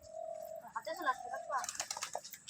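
Pigeons being fed grain coo softly in a low, throaty warble, close but faint, followed by a brief flutter or rustle near the end.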